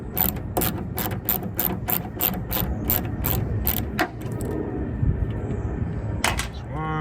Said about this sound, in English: My 8mm socket wrench here, and you want to take these off.